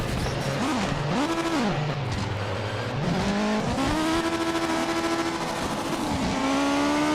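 In a racing video game, a car engine revs and wails up and down, pitch swinging through several rising and falling sweeps, as tires squeal in a handbrake skid, loud and close with no talk.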